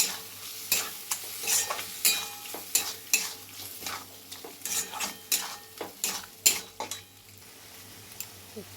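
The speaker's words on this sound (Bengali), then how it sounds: "এবার এটাকে আমি ভালো করে কষিয়ে নেবো যতক্ষণ না এর ভিতরে জলটা যেন মরে যায়" Patol chingri, pointed gourd and prawns with green chilli, ginger and garlic paste, stir-fried in a pan, with repeated close scraping and clinking of the spatula over a steady sizzle, no voices.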